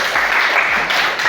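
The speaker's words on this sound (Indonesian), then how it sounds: "Kita beri tepuk tangan juga untuk" A classroom group claps together during a lesson, a short, loud burst of dense hand clapping filling the moment with no talk over it.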